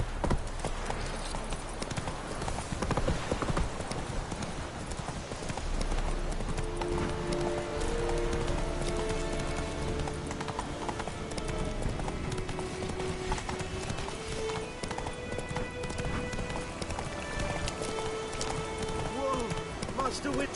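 Roach the horse gallops in The Witcher 3, hooves clip-clopping in a steady running rhythm under game music and talking voices for the whole stretch.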